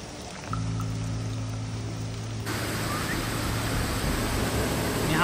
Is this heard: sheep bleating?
no